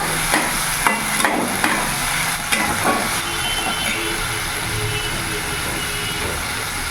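Spice paste of ginger, garlic and chili being stirred in a hot pan, a steady broadband sizzle with a few soft spoon scrapes and knocks near the start, then a continuous even hiss.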